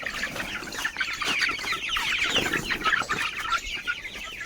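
Chickens cluck steadily and fairly close, with overlapping calls and a faint flap of wings now and then over a busy farmyard background. No one speaks.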